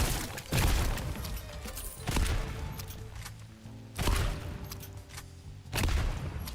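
A volley gun fires in a video game, four heavy booming bursts spaced about one and a half seconds apart, each with a rumbling tail, loud and close with no talk.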